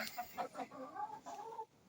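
Several short clucks from laying hens in quick succession, followed by a softer, drawn-out warbling cluck, close by with no talking.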